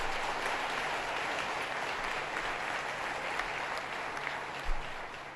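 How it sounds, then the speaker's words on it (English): An audience at a Martin Luther King event applauds keynote speaker Carl McCall, chairman of the SUNY system, a steady moderate clapping that holds evenly throughout without cheers. "Let's give him a round of applause."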